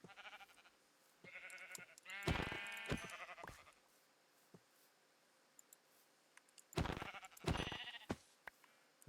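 Several quavering sheep bleats in Minecraft's GregTech: New Horizons modpack, loud and close, in two clusters separated by a lull, mixed with sharp clicking taps.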